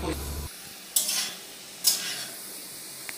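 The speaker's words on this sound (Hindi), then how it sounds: "तो अब ये आलू फ्राई कर रहे हैं" Potatoes frying in a pan while being prepared for a party meal: two short bursts of close stirring and sizzle break an otherwise quiet stretch.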